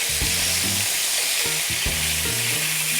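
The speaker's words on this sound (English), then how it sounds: "I'm basically just par cooking them by browning them on each side for approximately 3 minutes" Chicken pieces for Jamaican brown stew chicken sizzle and fry steadily in a hot pan while browning, a dense continuous hiss with occasional low clunks and scrapes of turning or stirring, close and loud, with no talking.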